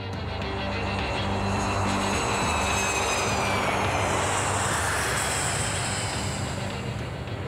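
A Cessna light airplane flies with its engine droning steadily, a continuous moderately loud hum with a high whine that drifts in pitch as it passes, no speech.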